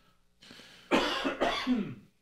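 Two harsh, close coughs in quick succession follow a short breathy lead-in, loud and dry, with no speech.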